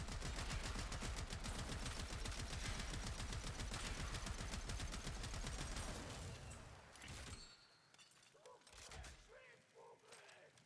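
The Trumna weapon in a video game unleashes a sustained rapid burst of gunfire that lasts about seven seconds and then cuts off. Quieter mechanical clicks and handling sounds follow.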